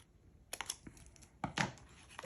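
Scissors cutting paper for a Christmas junk journal, with a few close, quiet snips and crisp rustles in short bursts and no talking.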